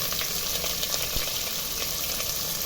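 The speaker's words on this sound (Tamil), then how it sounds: "வெங்காயம் நல்லா வதங்கட்டும்." Onions sizzle in oil in a pan for prawn biryani, a steady broadband frying hiss with a few faint clicks of stirring throughout, fairly close and with no talking.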